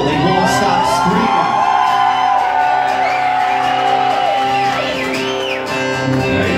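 An audience at an acoustic concert cheers and shouts loudly, with overlapping whoops, yells and rising screams forming a dense, continuous wall of crowd noise.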